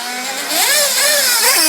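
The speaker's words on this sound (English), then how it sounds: "Engine is refired and he's gone back out." A nitro RC buggy engine refires in the pits and revs up during an A-Main race, a loud, close, high-pitched whining buzz that sweeps up and down in pitch several times as the throttle is blipped.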